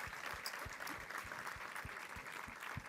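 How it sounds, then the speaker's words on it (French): An audience applauds at a bakery event, giving a fairly faint, even wash of many hands clapping that runs steadily throughout. "On peut applaudir."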